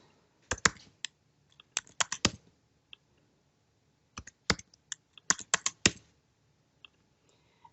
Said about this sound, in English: Data Loader will ask for user ID, password, and domain code for each database or domain it needs to connect to. Let me enter.